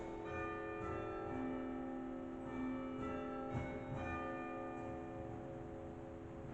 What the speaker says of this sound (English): That's the bells.